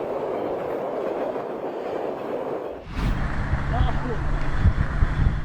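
A train rolls straight through Waru Market. A softer, busy background gives way halfway through to a loud, close rumble of rail cars that builds and holds to the end.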